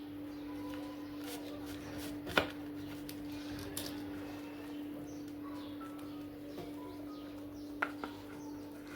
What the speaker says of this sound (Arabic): نقطع معكم واحد الطريف.